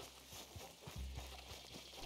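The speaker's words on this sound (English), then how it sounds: "Come on, horsey." Horse hooves in the video game Red Dead Redemption 2, a steady clip-clop of a horse moving at a walking or trotting pace, quiet and continuous.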